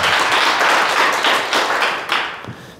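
Audience applause at a question-and-answer lecture in Daejeon, a burst of close, full clapping that holds briefly, then thins and fades toward the end.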